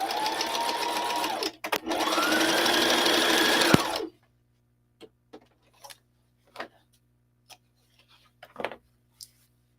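A sewing machine stitching a pocket onto scratch fabric runs in two close, steady whirring bursts with a brief pause between them, then stops, leaving scattered faint clicks and handling sounds.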